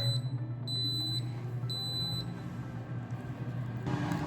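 An Instant Pot Pro Crisp 11-in-1 multicooker gives two faint, high electronic beeps, each about half a second long, over a low steady hum.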